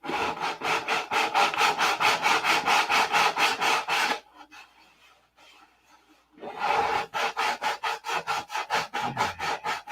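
Bondo body filler on a P-47 model being sanded by hand with rapid, steady back-and-forth rasping strokes, loud and close, broken by a short quiet pause before the rhythmic scraping resumes.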